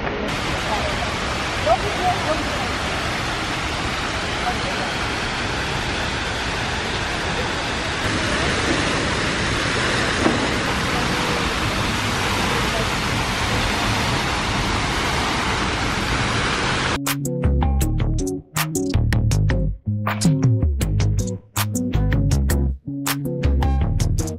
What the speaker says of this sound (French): Au pied de la montagne, il y a ces magnifiques cascades